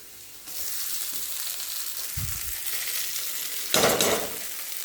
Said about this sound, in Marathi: आता आपण याच्यात टाकू पोहे.